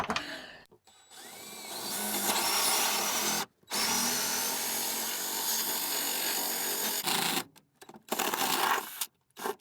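A power drill whines steadily as it bores through the wood of a camper van, running loud and close for several long stretches with brief pauses between.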